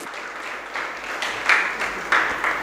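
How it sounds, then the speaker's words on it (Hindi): An audience claps at a Jain religious discourse, a steady moderate patter of applause with a few louder bursts swelling through, no speech over it. "सब लोग ताली बजा रहे हैं"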